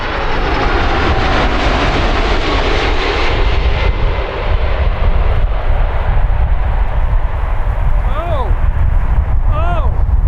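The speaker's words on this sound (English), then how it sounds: "This Boeing 747 suffered a hard touchdown after flaring too late." Boeing 747 making a hard touchdown, loud roaring jet engine noise throughout with a brief dip in the middle, then sweeping whine tones toward the end as the engines change pitch.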